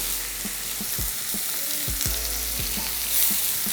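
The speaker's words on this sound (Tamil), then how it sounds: "ஃபஸ்ட்டு இதில் வெங்காயம் போட்டுக்கலாம்." Chopped onions frying in hot oil in a pan for Tamil egg thokku, a steady close sizzle with occasional soft stirring scrapes, no voices.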